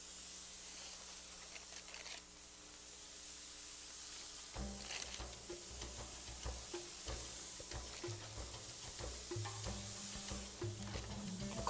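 Iraqi ground meat kabab sizzles in a very hot pan or grill, a steady close hiss with crackling and spattering that grows busier partway through.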